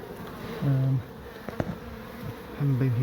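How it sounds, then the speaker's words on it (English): Bees buzzing around a hive inside a brick pillar, close droning hums that swell and fade in short passes, with faint background noise between. "there's a hive in the brick pillar"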